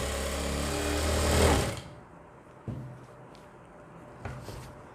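A sewing machine runs fast and steady while stitching a salwar belt, then cuts off, leaving a few faint clicks and knocks close by.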